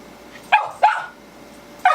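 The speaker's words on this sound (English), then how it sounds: "I've got a nervous little dog" A nervous little dog close by yaps three times: two quick high barks, a pause, then one more, over a quiet background.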